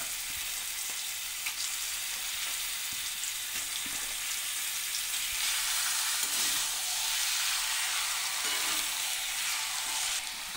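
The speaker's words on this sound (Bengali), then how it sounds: "এবার এটার মধ্যে মাংসটা দিয়ে দিচ্ছি" Chicken pieces frying in oil with already-fried spices and a little turmeric for a Bengali chicken kasha, a steady loud broadband sizzle with faint stirring clicks throughout, no voices.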